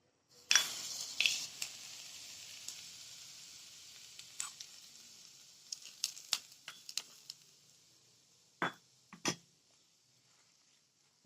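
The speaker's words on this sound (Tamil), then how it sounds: "நல்லா பொரிஞ்சிருச்சு இப்போ இதை நல்ல சூடோட சட்னியில் தாளித்து ஊற்றிக்கலாம்" Hot tempering poured into a chili powder chutney, a sharp burst of sizzle followed by a quieter crackling hiss that fades, punctuated by scattered pops and spoon clicks close by.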